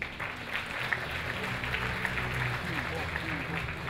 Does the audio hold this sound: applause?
yes